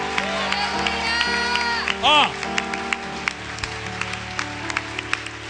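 Congregation clapping during a lively church service, a steady patter of hands beneath music, sung tones and shouted voices.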